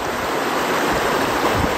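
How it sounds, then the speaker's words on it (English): A public trout river flows in a steady, loud, even rush of water that fills the whole moment without pauses or voices. "I guess it's a public river."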